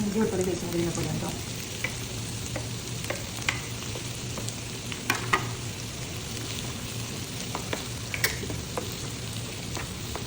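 Ginger garlic paste frying in a pan with onions, a steady close sizzle and crackle running throughout with occasional sharp spatter pops.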